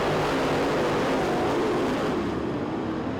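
A race car roars steadily at the Winter Nationals as it gets back on the gas after a caution, a loud, dense engine drone with crowd and track noise that fades slightly toward the end.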